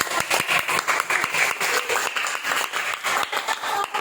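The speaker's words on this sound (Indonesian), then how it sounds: "Kasih tepuk tangan dulu untuk tokoh" Classroom applause for the characters of a children's story, a steady wash of many hands clapping through the whole stretch, fairly close and loud, with a faint voice underneath.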